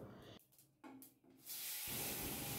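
Fried brinjal pieces dropped into hot oil with mustard seeds and black cumin hit with a sudden loud spray of hissing sizzle that follows some quieter handling sounds and then keeps up steadily.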